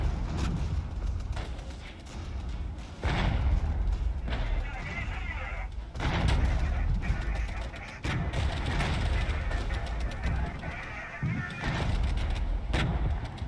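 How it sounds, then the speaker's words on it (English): Artillery fire in the Regiments wargame, repeated heavy booms and rumbling blasts at irregular intervals over battle noise, with someone talking throughout. "Alright, here comes our artillery."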